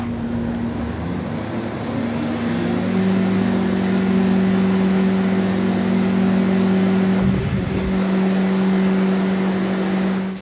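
A Toyota Prius in Forza Horizon 6, heavily modified to about 1600 horsepower, drones with a steady, loud engine tone that rises in pitch partway through, dips briefly near the end and then holds, with no talking.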